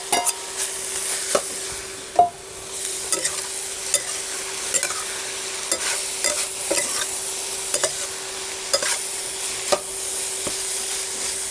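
Dried sweet potato leaves and pork stir-fried for Hunan braised pork, a busy sizzle broken by repeated scraping and clacking strokes of the spatula against the wok, close and without speech.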